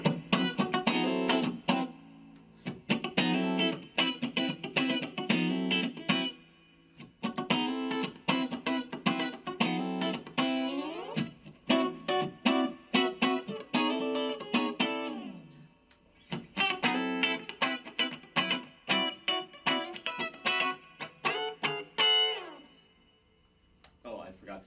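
A Strandberg Boden Prog NX 7 seven-string guitar plays with a clean, glassy tone in bursts of picked notes and ringing chords, close and alone.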